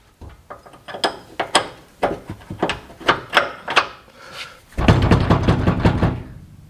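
Trailer hitch rattling while towing a small trailer, a series of loud knocking clunks in an uneven rhythm, then a denser burst of rapid rattling near the end.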